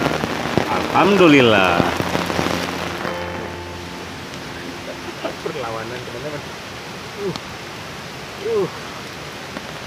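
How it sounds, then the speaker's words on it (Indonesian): Rain falling steadily during a channa fishing trip, a constant close hiss of drops on surfaces, with someone speaking over it in short bursts. "walaupun hujan nih"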